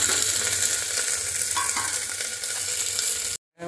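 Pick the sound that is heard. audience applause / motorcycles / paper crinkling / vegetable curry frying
vegetable curry frying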